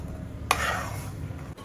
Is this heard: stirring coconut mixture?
yes